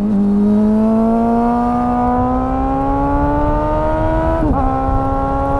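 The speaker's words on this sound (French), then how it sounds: "un énorme son massif de 4 cylindres que t'entends à des kilomètres" A Suzuki Bandit four-cylinder roadster engine from the 2000s holds a loud, steady, massive drone close by, its pitch rising slowly, then dipping briefly near the end before settling again.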